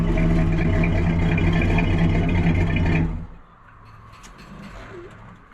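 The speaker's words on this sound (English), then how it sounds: "It's got a nice dual exhaust sound" A 1967 Chevrolet Impala SS convertible with dual exhaust idles close by in a deep, steady rumble. After about three seconds the engine cuts off, leaving quiet background sound.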